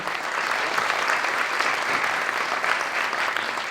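A lecture audience applauds a relativistic cosmologist and artist at a talk on the time of the universe, a dense, steady wash of many hands clapping close and loud throughout, with no pause.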